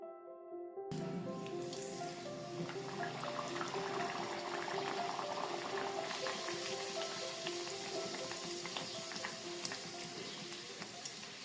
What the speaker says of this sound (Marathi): दोन्ही साइडीन बरे कन तांबड जातपर्यंत भाजू जाय।